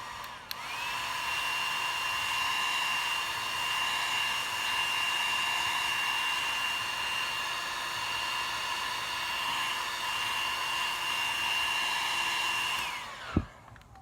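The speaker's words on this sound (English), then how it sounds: "you don't always need to go to the high setting on your heat gun if you just have high and low or adjustable" A heat gun warms the plastic housing of a Toyota Tacoma fog light, a steady, loud blowing whine that runs unbroken for about twelve seconds before cutting off with a soft click.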